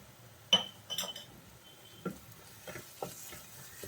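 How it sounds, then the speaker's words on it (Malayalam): A spoon stirs spice masala with salt in a pan for Kerala-style karimeen pollichathu, giving a few scattered scrapes and clinks over a faint sizzle, up close with no speech. "എല്ലാത്തിലും കൂടി ഒന്ന് ഇളക്കി യോജിപ്പിച്ച് കൊടുക്കാം."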